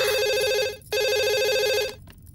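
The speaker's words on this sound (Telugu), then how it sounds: "పబ్లిక్ ఫోన్ నుంచి అబ్బాయి ప్రైవేట్ గా ఫోన్ చేస్తాడు" A telephone rings for an incoming call placed from a public phone, two loud electronic ring bursts with a short gap between them, close and clear, then quiet.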